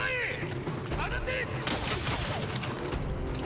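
Enemy gunners open fire in the Ghost of Yotei video game, with a dense, chaotic barrage of gunshots and battle noise. Game voices and talk are mixed in.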